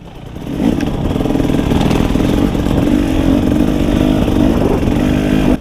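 A 2018 KTM 300 dirt bike engine drones loud and steady at high revs through an enduro hare scramble race, a buzzing two-stroke note holding with little letup after a short rise at the start.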